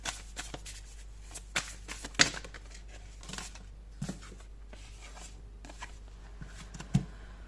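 Tarot cards are shuffled and drawn during a horoscope reading: soft, sparse riffles, slaps and snaps of card stock, quiet and close over a low steady background hum, with no speech.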